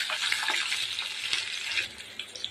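Garlic and green chillies fry in hot oil in a pan, a close, bright hiss with a few scraping stirs, easing slightly toward the end.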